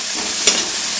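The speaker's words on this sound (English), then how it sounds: "just fry this for just literally for 1 minute" Garlic frying in a pan, a steady broadband sizzle heard up close with one brief louder pop or stir partway through, no voices.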